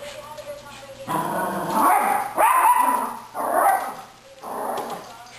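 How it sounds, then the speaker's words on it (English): Dog barking on a TV talk show (the Ellen Show), several bursts across a few seconds over background audio, with people talking around it. "He's barking. Barking doggy."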